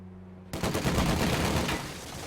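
Strafe run machine gun fire in a World War II style video game, a sudden loud rapid burst of many shots hammering close for about two seconds, no voices.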